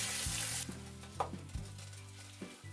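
Masala paste and thick yogurt sizzling in melted ghee, a close, soft frying hiss with a few quick stirring scrapes and clicks, no voices.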